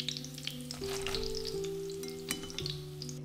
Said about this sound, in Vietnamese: Tiếp theo mình cũng chiên lửa lớn khoai môn với lại khoai lang luôn.